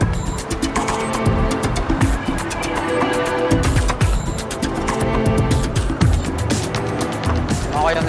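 Heavy road traffic makes a dense, continuous wash of engine rumble and passing-vehicle noise, loud and close throughout, with no distinct gaps.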